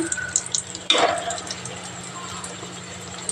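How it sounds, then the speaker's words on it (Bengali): Brinjal slices fry in a pan, with a sudden wet hiss and sizzle that starts abruptly and then settles into a steady low crackle, close by, as a voice speaks faintly in the background. "এই যে বেগুন ভাজা করছি"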